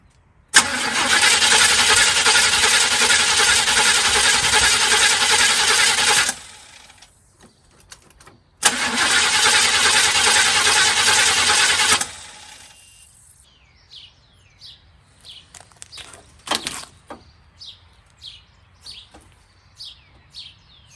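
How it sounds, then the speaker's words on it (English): A 1979 Camaro with a newly fitted Holley 4-barrel carburetor cranks and catches twice, each time roaring loudly for several seconds before cutting off, followed by quiet with birds chirping nearby. "Okay, guys, it's starting, but it's cutting off."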